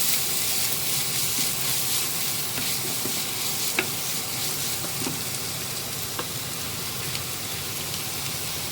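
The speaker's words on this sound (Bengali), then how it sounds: "পেঁয়াজটাকে তেলের সাথে ভালোভাবে নাড়িয়ে নেব।" Chopped onion fries in hot oil while being stirred, a dense, continuous close sizzle with occasional light scrapes and taps of the spoon against the pan.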